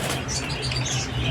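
Young keets in a flock chirping and flapping their wings, a busy close mix of soft tweets and fluttering rustles filling the short moment without pause.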